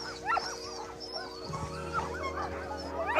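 A dog whimpers and yips in a series of high, wavering whines close by, with a low steady hum underneath and a louder whine at the end.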